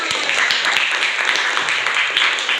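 Group applause in a classroom session, a dense steady patter of clapping hands filling the space throughout without pause.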